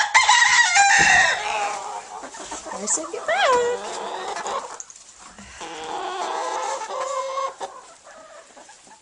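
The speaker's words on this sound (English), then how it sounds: "I have 26 hens in here and one rooster." About 26 hens clucking busily close by in their coop and a rooster crowing once midway, while a person speaks over the flock.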